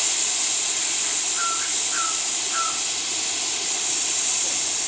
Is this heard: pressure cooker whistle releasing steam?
yes